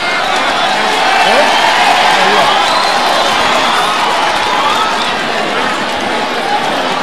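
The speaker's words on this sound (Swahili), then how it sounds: "tumpigie makofi, tumpigie makofi, tumpigie makofi tena isi tumpigie makofi" A crowd at a funeral send-off for the late Nyamaiya ward MCA Elijah Osiemo in Nyamira claps and cheers in a continuous, fairly close roar, with voices shouting and talking throughout.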